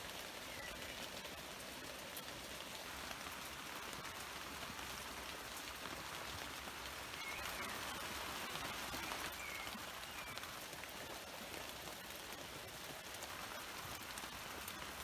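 Steady summer rain falling through a saturated tree in a Wiltshire garden, a dense continuous patter of drops on leaves, even and close, with no voices.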